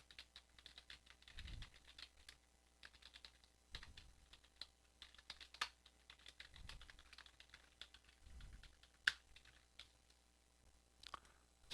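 Keys clatter on a computer keyboard in quiet, uneven bursts, close and soft, with occasional sharper clicks and low thumps between the runs of typing.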